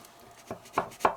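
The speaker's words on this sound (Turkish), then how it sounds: "Şimdi e, dilimleri dilimliyorum artık" A knife slicing through a tray of layered Antep pistachio baklava pastry, three soft crisp cuts that grow slightly stronger, close and quiet with no talking.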